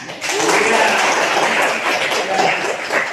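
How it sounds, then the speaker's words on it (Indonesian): A classroom of students breaks into steady applause after a presentation, loud and close, with some voices mixed in. "tepuk tangan"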